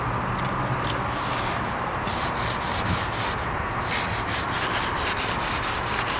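Abrasive pad scrubbing a rusty metal vending machine rack, a steady continuous rubbing rasp with rhythmic back-and-forth strokes, close and even in loudness throughout.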